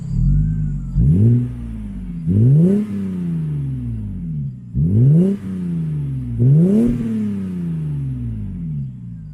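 A Lexus GS300 accelerating on the road, its engine note climbing and dropping through several gear changes in a steady rhythm, loud and close with no talking.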